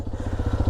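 A motorcycle engine labours in gear up a steep, rocky hill, a close, steady pulsing chug that throbs rhythmically throughout.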